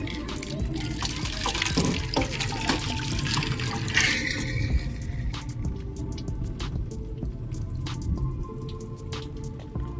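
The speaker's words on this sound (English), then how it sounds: "In this case I'm just using regular water, but it should be the same thing." Plain water poured over a rusty wheel rim during a restoration, splashing and dripping steadily at close range, with a busier, louder stretch in the first half before settling into lighter trickling and scattered drops.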